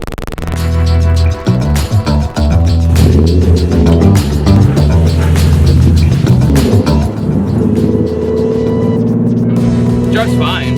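A Nissan exhaust idling after a cold start, a loud, steady low droning hum close by with harmonic tones and a slight waver throughout.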